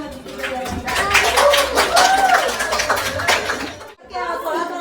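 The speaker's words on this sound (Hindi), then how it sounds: "जोरदार तालियां हो जाए" An audience claps in a steady patter of hand claps, with voices and tonal sound running over it before it breaks off, followed by a brief further stretch.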